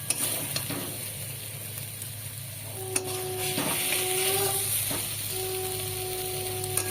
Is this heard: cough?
no